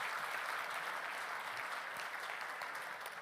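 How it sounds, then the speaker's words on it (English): Audience clapping steadily for a digital marketing agency team at a business talk, a dense, even wash of applause that holds throughout. "Round of applause for them."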